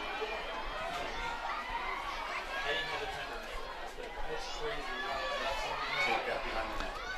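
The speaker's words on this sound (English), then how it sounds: "You can hear the crowd in the background." Background crowd at a girls' varsity lacrosse game between Darien and New Canaan, a soft steady murmur of chatter and scattered shouts heard under a commentator's voice.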